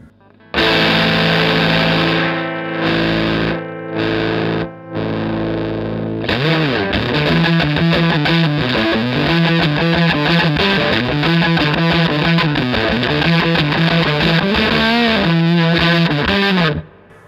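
Heavily fuzzed Stratocaster through an Aroma G-Fuzz or Dunlop Hendrix 70th Anniversary Fuzz Face: a few sustained chords with short gaps, then a loud continuous distorted riff, played alone.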